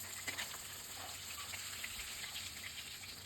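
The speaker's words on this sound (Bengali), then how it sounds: "এবার পাশের চুলোয় মাছগুলোকে ভেজে নিচ্ছি।" Tangra fish fry in hot oil on a stove, a constant broadband hiss and crackle with a gushing quality that stays steady and fairly close throughout.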